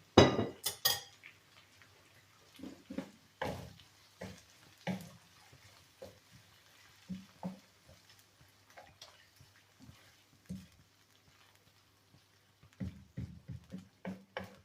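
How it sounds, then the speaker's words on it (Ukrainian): A spoon stirs the strudel (shtrudli) mixture together in a dish, giving sparse, light clinks and scrapes against the dish at close range, in short irregular bursts with quiet gaps between them. "То все разом перемішаю."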